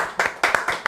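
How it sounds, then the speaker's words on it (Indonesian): A few quick hand claps of applause from a small audience on an Indonesian talk show, three or four close, bright claps in under a second. "Tepuk tangan dulu dong."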